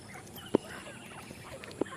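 Two short honking calls from a small flock of five geese on a Bangladeshi poultry farm stand out, one near the start and a quieter one near the end, over faint background noise.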